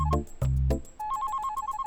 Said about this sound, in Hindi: बेबी का फोन है।